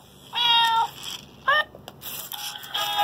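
A cat gives several loud, close meows, a long one, a short one, then a couple more in quick succession, with brief quiet gaps between.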